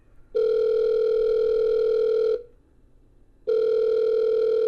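A telephone ringing tone in the horror video game The Letter sounds as two long, loud, steady electronic tones separated by a silent gap, clean and close with no talk.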